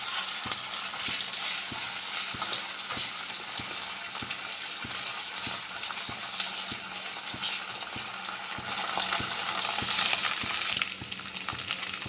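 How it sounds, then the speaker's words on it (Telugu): Onions and ginger garlic paste frying for a curry gravy, a continuous close sizzle broken by repeated scraping taps of a spoon stirring in the pan, the hiss growing slightly louder near the end. "అల్లం వెల్లుల్లి పేస్ట్ వేసుకున్నాక పచ్చి వాసన పోయే వరకు వేయించుకోవాలండి."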